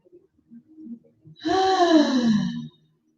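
A long, deep audible breath drawn in and released during a slow morning stretch, following a few faint soft sounds, close and clear, lasting about a second and a half with no words.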